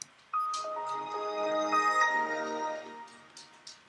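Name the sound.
Windows startup sound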